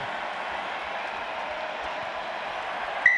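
Crowd at a rugby sevens match in Vancouver applauding after a penalty is awarded to Canada against Russia: a steady, broad wash of distant stadium clapping and cheering that holds evenly throughout, with a brief louder burst at the very end.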